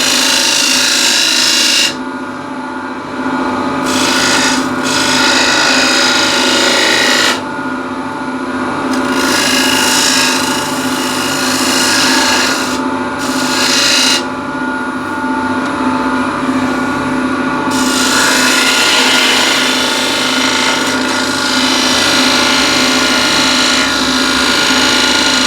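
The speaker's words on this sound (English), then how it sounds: "What I'll do with a 10mm spindle gouge, let's see, maybe to make a little bead here" A 10mm spindle gouge cuts a small bead into the foot of a turned wooden container on a lathe. A constant motor hum runs under bursts of hissing, scraping cuts that stop and start several times.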